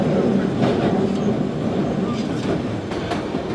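A London Underground Central Line train rumbles loudly and continuously from inside the carriage, with rail clatter and a faint tonal squeal, while voices murmur underneath.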